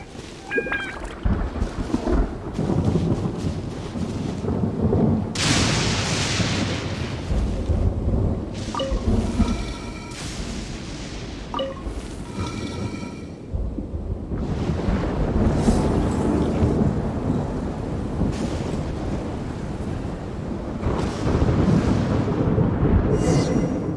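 In the video game Genshin Impact, a storm roars with heavy rain, gusting wind and rolling thunder that swell and fade in repeated waves, loud and continuous throughout with no speech.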